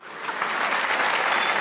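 Brief, steady applause from a comedy show's studio audience, a thick wash of many hands clapping at even loudness after a quick start.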